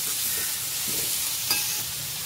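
Tomatoes go into a masala frying in oil for prawn rice, producing a steady, close sizzling hiss with one brief clatter partway through.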